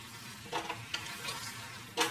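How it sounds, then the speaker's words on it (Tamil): Boneless mutton for Chettinad chukka sautés quietly in a pan, a soft low sizzle broken by a few brief scraping stirs, close but faint. "மட்டனை வந்து இந்த அளவுக்கு நல்லா வதக்கிக்கணும்"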